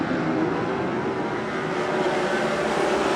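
360 sprint cars race around Tulare Thunderbowl Raceway, a dense, continuous engine roar that holds steady and loud throughout, with no break and no voices.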